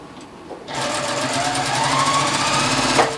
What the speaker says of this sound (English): we're going to sew using a 1/4 inch seam